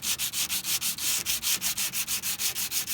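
Steady rhythmic sanding of metal car body panels on a Fox body race car, a dry rasping stroke repeating back and forth about five times a second, close up and continuous with no talking.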